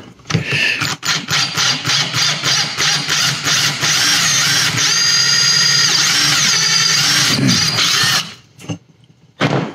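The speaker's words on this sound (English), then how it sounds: "I'm going to do this with the hand drill" A hand drill bores a starter hole in a plastic 1/60 NeoGrade Sazabi model kit. A run of short, stuttering starts gives way to about four seconds of steady, close, grinding whir, then a brief stop and a final burst.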